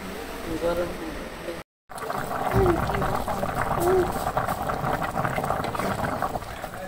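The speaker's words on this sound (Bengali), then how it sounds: "বলক এসে বসছে" A pot of fish curry coming to a rolling boil over a village cooking fire, with continuous bubbling and gurgling under voices talking nearby.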